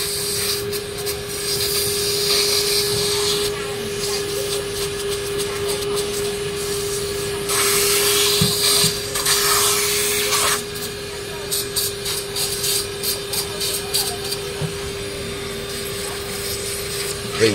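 A vacuum cleaner draws air while cleaning a printer during routine maintenance, giving a steady droning whine with rubbing and scraping bursts as the nozzle moves over the parts.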